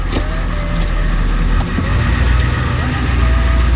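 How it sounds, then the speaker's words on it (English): An old truck engine runs steadily with a low, rough rumble as the vehicle starts to move, loud and continuous across the whole stretch, with a few faint clicks and rattles over it. "Let's see if the truck moves."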